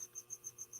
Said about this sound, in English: It's kind of turning into our season of crickets now.